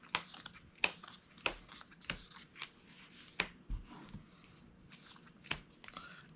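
Monster cards for The Darkling Veil board game are shuffled by hand, making sharp, close papery snaps and slaps in an irregular rhythm against a quiet background.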